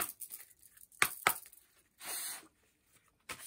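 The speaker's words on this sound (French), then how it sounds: "je commence par mélanger les cartes" Tarot cards being shuffled by hand, heard as a few sharp riffling snaps and a short burst of dense card rustle, spaced apart by quiet gaps, close and fairly loud with no voices.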